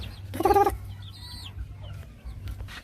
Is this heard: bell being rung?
no